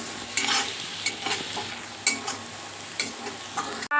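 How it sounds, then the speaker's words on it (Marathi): Bitter gourd peels stir-fry in a pan over medium heat, a soft continuous sizzle punctuated by irregular scraping and tapping of a spatula, close by with no talking. "हे 2 मिनटं छान असं मिडियम गॅसवरती परतून घ्यायचं."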